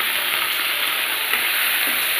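Dry red chillies and raw tamarind fry in a hot pan, giving a steady, close sizzle with faint stirring scrapes throughout and no talk.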